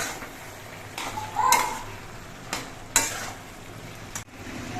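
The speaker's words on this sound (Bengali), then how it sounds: "চাল কুমড়োগুলো আবার নেড়ে রেখে দিচ্ছি" Ash gourd pieces stirred in a pan with a spoon, a few distinct scraping strokes over a soft sizzle, close and moderately loud, with no talk.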